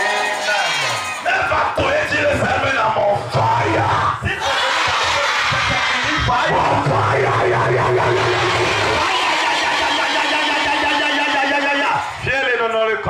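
A congregation at an evangelical preaching service cheers, shouts and acclaims Jesus Christ in a loud, sustained, close crowd roar, with voices yelling and whooping throughout.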